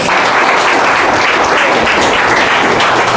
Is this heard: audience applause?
yes